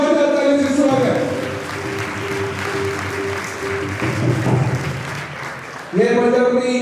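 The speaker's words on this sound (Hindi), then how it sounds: "जोरदार तालियों से स्वागत।" Audience applause fills a hall at a felicitation ceremony for youth talent held by a Prajapati youth service group in Churu, a steady wash of clapping lasting about five seconds, with a voice speaking just before and after.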